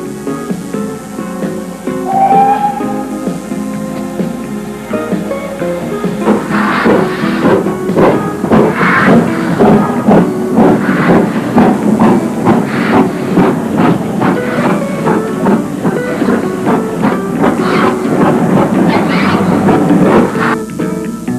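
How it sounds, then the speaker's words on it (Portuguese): A steam locomotive chugs along the tracks on the English Riviera, its rhythmic beats building steadily and loudly, with hissing steam and clanking metal close by. "a locomotiva vai ao encontro do trem para a nossa aventura"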